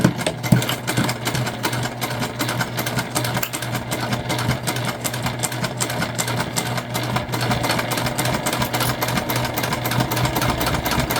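Sewing machine top stitching a crossbody bag, a continuous close mechanical hum with quick needle chatter, steady and uninterrupted.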